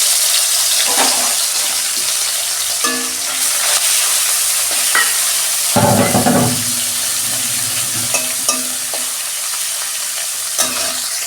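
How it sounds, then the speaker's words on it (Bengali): Morola fish frying in hot oil for a fish sour dish with mango and lentil dumplings, a steady close sizzle with occasional bursts of spattering and a few light clinks of a utensil in the pan, no talking. "তেল গরম হয়ে গেছে, মাছটা ভেজে নিচ্ছি।"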